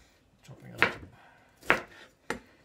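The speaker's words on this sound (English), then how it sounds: "just chopping it up" A knife chops vegetables on a cutting board while meat and vegetables are being cooked, giving three sharp, separate thuds spaced about a second apart, close and fairly loud with near-silence between them.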